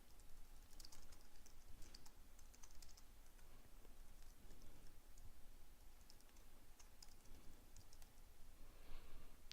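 Quiet, rapid keypresses on a computer keyboard patter in irregular bursts as a name is entered.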